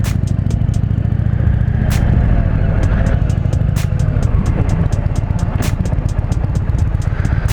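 A 2020 Indian Challenger motorcycle is being ridden, its engine a loud, steady low rumble throughout with rushing wind noise and a few sharp clattering bumps along the way.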